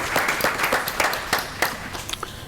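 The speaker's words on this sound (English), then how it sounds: "Dan deserves a great round of applause" Audience at a municipal water quality presentation in East Brunswick breaks into applause, a dense patter of many hands clapping at moderate level that thins out toward the end.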